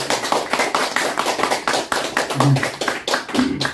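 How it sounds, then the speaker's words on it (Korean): An audience at a Korean book-concert lecture breaks into loud, dense applause that rolls on continuously, close and full, with brief voices surfacing near the end. "큰 박수로 우리 이천 교수님을 맞이하겠습니다."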